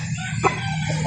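Roosters and chickens at a poultry market in Calauan, a brief close cluck and crowing burst over steady low background noise.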